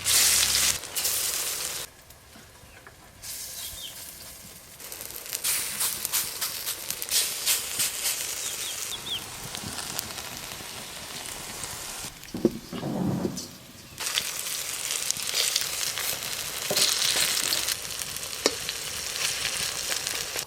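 Pumpkin leaf fritters frying in hot oil give a steady, dense crackling sizzle that fills the scene, with brief quieter stretches and occasional clinks and scrapes of a utensil in the pan.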